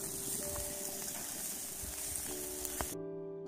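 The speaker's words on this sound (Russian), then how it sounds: "И мы жарим курочку." Chicken pieces frying for shashlik give off a steady bright sizzle with faint pops, close and continuous, until it cuts off abruptly near the end.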